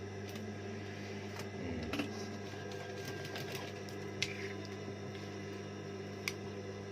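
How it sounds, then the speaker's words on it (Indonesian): A sewing machine stitching a neckline binding along its edge: a steady low mechanical hum with rhythmic needle ticking, running continuously with a few faint clicks, close by. "kita jahitlah ini pas di pinggirnya"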